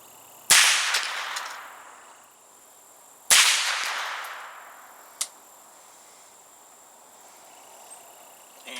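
A suppressed Ruger 10/22 rifle fires two clear, sharp cracks about three seconds apart, each trailing off with a short ringing decay, followed by a fainter distant snap and quiet ambience.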